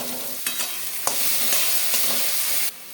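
Chopped tomatoes with salt and green chilli paste sizzle and fry steadily in a hot pan, with a few sharp stirring scrapes and clinks throughout, close and fairly loud, no talking.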